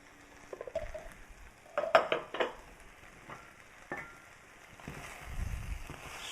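Okra, green beans and spices including coriander and cumin stirred in a hot pan, soft sizzling with scraping and clinking of the utensil against the pan in short bursts, close by.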